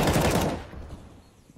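Rapid automatic gunfire in a Counter-Strike match at a pro tournament, a dense loud burst lasting about half a second before cutting off and fading into faint ambient noise.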